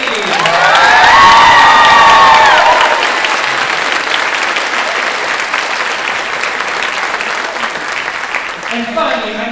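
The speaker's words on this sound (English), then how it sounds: "How about a round of applause for Matthew Zaluski?" An audience at a children's choir and youth chorus spring concert claps loudly for the new collaborative pianist. A cheer and voices rise at the start, then the applause continues steadily before thinning out.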